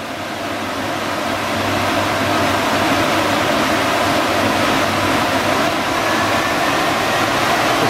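A Doosan Puma MX-3100 turning spindle runs at 1,000 RPM, giving a steady, loud machine whir with a low hum that holds evenly throughout, with no voices.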